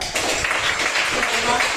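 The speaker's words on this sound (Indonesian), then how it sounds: "tepuk tangan dulu untuk Yulia" Classroom applause for a student named Yulia, a short burst of clapping from a group that stays fairly steady, with voices mixed in.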